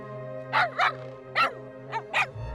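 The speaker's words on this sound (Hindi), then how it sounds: "ऐसे देखकर क्यों भौंक रहे हो तुम?" A dog barks five times in short, uneven bursts, close by and loud, over a low steady electrical hum.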